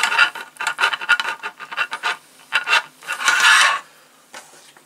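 A small screw is driven by hand into a VW T1 Samba Bulli model kit, heard as close, repeated scratchy rasping bursts in an uneven rhythm with short pauses between turns.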